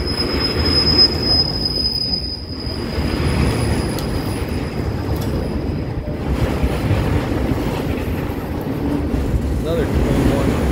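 A brand new auto rack railcar rolls through Hobson Yard in Lincoln, Nebraska, wheels squealing steadily against the rails with a continuous grinding roll close by, while someone talks over it.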